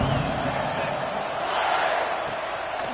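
Stadium crowd noise in an American college football video game, Arizona State at Texas: a continuous roar of distant cheering and murmur, steady throughout, with no clear voices standing out.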